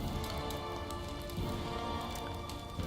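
Water splashes and patters in the video game Pathfinder Kingmaker, a soft, continuous spattering with small drips throughout.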